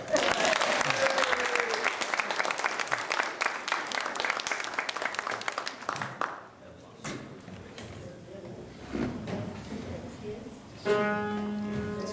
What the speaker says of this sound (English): Let's have a warm round of applause for Savannah Sharp.